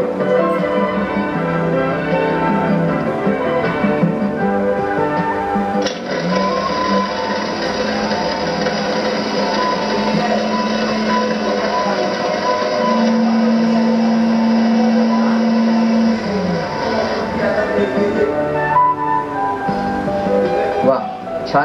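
A mixer whirs as it blends fruit punch with strawberry crush and ice cubes, a loud steady motor hum with a pitch shift midway, while a voice talks over it.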